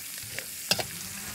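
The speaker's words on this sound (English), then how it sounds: "And diced onion. So you fry this up." Diced onion frying in a pan gives a steady, even sizzle throughout, broken by a couple of brief utensil taps near the middle.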